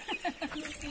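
Chicks of naked-neck and pedrez breeds give a few soft, high cheeps in quick succession, close by and fairly quiet, with no talk.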